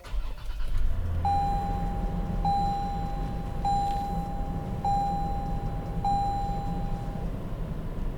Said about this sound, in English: This will be a cold start.